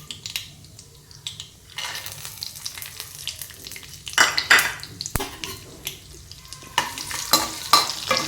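Cashews frying in a pan with mustard seeds and urad dal, crackling and sizzling close up while a spoon stirs and scrapes in irregular bursts that grow louder and busier toward the end.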